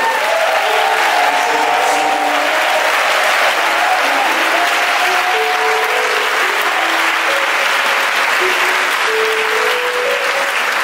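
A church congregation applauds during a Sunday worship service: loud, sustained clapping from a large crowd lasting about eleven seconds, with scattered voices and cries rising above it.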